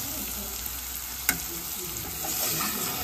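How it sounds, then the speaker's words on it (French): Meat browning in a pan for Tunisian tajine sizzles evenly and close at hand, with one brief scrape of stirring partway through and no talking. "Elle fait revenir la viande pour la faire colorer tranquillement"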